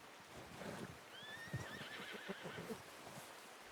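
Horse whinnying in the video game Red Dead Redemption 2, a faint thin neigh rising and wavering for about a second against soft outdoor ambience and light hoof clops.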